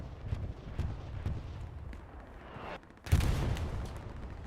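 A bombing run in a tank battle video game: muffled, distant rumbling blasts build up, then one sudden loud explosion bursts close by and rolls on with a heavy rumble.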